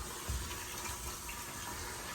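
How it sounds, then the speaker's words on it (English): Water drains from the sink of a 1964 Airstream Globetrotter trailer down into its holding tank, a steady, soft rushing trickle heard close up with no talking. "you can see water draining into the tank"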